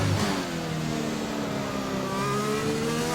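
Formula 1 car in the F1 2021 video game accelerating hard with DRS open, a loud high-pitched engine climbing steadily through the revs, continuous and close, with no one talking.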